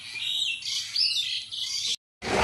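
Birds chirp and tweet busily in high, overlapping calls, fairly close and steady, breaking off briefly near the end before resuming.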